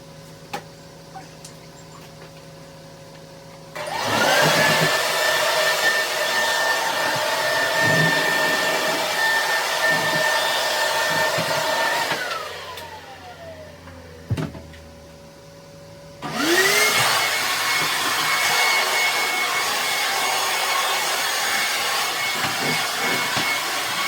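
A blower-type dryer used to blow dust off a wooden steam chair whirs loudly in two long bursts, rising to a steady whine with a short pause between and quieter ticking sounds in the gaps.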